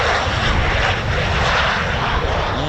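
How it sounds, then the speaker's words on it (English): A Eurofighter Typhoon FGR4 fast jet passes overhead at an air show, a loud, steady broadband roar that fills the whole clip without letting up. "It's Ted's jet."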